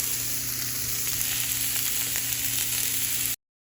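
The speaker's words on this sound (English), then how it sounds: "I cook my carrots and onions till they're almost softened" Onions and carrots sizzle in a hot pan during home cooking: a steady, close, unbroken frying hiss with no voices, cutting off abruptly at the end.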